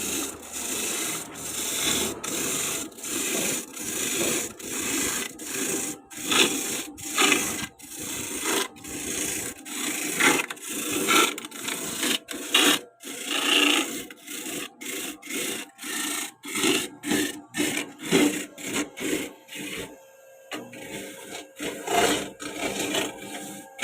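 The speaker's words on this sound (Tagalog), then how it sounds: "Pero yung kudkuran, so hindi yan siya iikot hanggat hindi mo siya siniswitch." Electric coconut grater (kudkuran) running, with a harsh scraping rasp that surges and fades in quick uneven pulses, close and continuous throughout.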